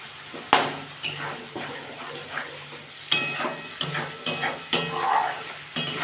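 Green fish curry masala with spinach being sautéed in a pan, a spoon scraping and knocking against the metal in irregular strokes over a soft, steady sizzle, close and alone.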